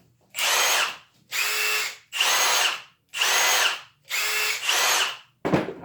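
A new Milwaukee M18 brushless impact driver runs in five loud, close bursts of about a second each, separated by short pauses, with a brief clunk at the end.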